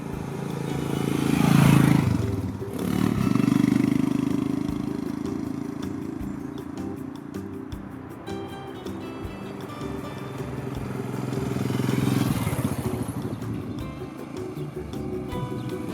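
A Royal Enfield Himalayan motorcycle cruises along quiet roads through vineyards in the Basque Country, its engine a steady low drone with wind rush that swells and eases as the bike rolls on, continuous and close with no talking.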